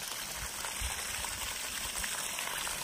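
Water pouring from a steel-body motor pump, a steady dense splashing and rushing that stays constant and close, with no voices.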